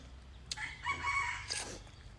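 A rooster crows faintly in the distance during outdoor filming, with one drawn-out call rising and falling over a low background rumble, and no talk over it.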